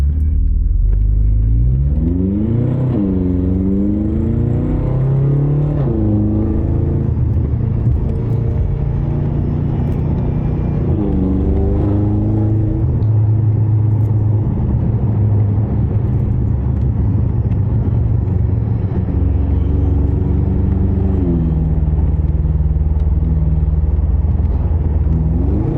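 A BMW fitted with a custom M steering wheel is driven hard, its engine revving up through the gears in loud, rising surges and dropping back between shifts, heard from inside the cabin with a deep constant rumble.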